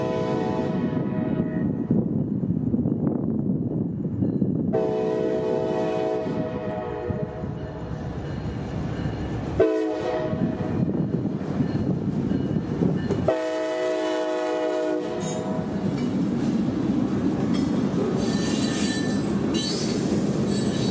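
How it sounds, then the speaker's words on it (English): A freight train passes with locomotives in central Florida, loud rumbling wheels and squealing rail noise alongside repeated long blasts of the train horn, fairly close. "our train was here."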